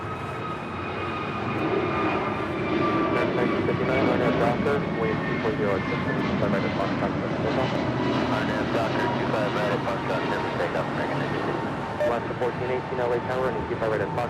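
An American Airlines jet lands on runway 25 left at LAX behind a Boeing 757, a steady, fairly loud engine rumble with a whining tone held across the pass, while tower radio chatter and voices run over it.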